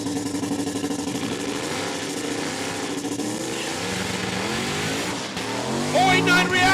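A 1979 Camaro drag racing down the strip at Saskatchewan International Raceway during a heads-up event, its engine roaring steadily beneath a continuous announcer's voice, growing louder near the end.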